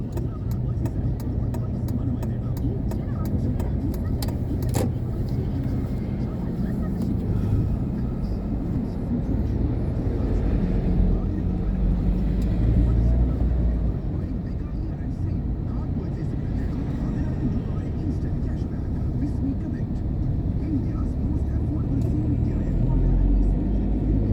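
Road traffic on a busy Monday street with a Mahindra vehicle passing, a steady low engine rumble and road noise running throughout, with a sharp brief knock partway through.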